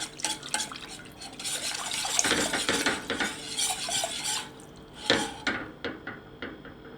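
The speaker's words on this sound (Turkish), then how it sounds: "Bu arada çırpıcı yardımıyla da karıştırabiliriz artık. Hızlı hızlı karıştırıyoruz." A whisk beating a milk-based dessert mixture quickly in a pot, busy rapid clinking and sloshing scrapes that rise and fall, fairly close, with no talk.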